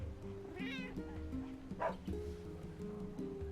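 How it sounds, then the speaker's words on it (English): A pet cat indoors gives a couple of brief, wavering meows amid a low purr and a steady background hum, close and soft. "Oh, you got big purrs."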